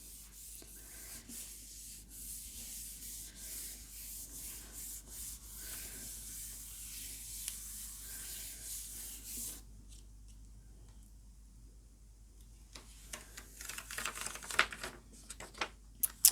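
Distress Oxide ink is rubbed off a Gelli plate through a stencil in soft, quiet, repeated strokes. Sharper scrapes and handling noises follow near the end.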